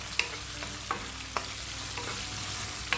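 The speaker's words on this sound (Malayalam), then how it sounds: "ഉള്ളി നന്നായി സോഫ്റ്റ് ആവുന്നത് വരെ വാട്ടിയെടുക്കണം കേട്ടോ." Onion and dried red chillies sauté in a pan for a green gram sambar, giving a soft steady sizzle broken by a few sharp clicks of a spoon stirring, with no voices.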